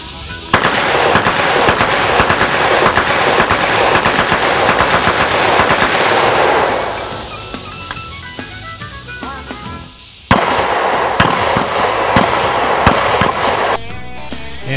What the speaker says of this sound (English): it was our turn to shoot some guns